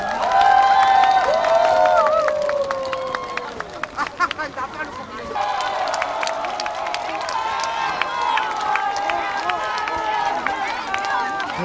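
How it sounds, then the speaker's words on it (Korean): An audience at an outdoor Korean music broadcast concert in Samcheok claps and cheers for a singer, with crowd noise and shouting under an amplified host's voice, swelling loudly then settling into sustained applause. "사랑의 박수 부탁드립니다"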